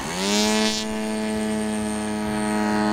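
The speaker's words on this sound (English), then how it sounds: "The students worked in teams to flight test a large remote-controlled model airplane" A large remote-controlled model airplane flies close by with a loud, steady propeller-engine drone, its strong harmonic tone holding nearly constant pitch throughout, with no voices.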